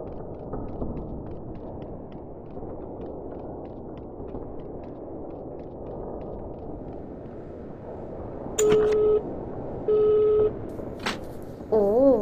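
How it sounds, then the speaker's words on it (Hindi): Phone dialing in the Evil Nun horror video game: a low rumbling ambient bed, then several short electronic tone bursts near the end, like keypad beeps and a ringing call signal. "सो फोन नंबर मिल गया है तो हम कॉल करके बुला लेते हैं लॉन्ड्री वालों को"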